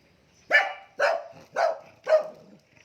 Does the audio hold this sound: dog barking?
yes